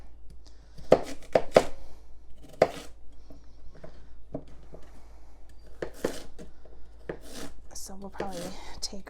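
Vegetables being sliced for roasting on a cutting board, with scattered sharp knife chops and thunks at an uneven pace, some in quick clusters, while a person talks in between.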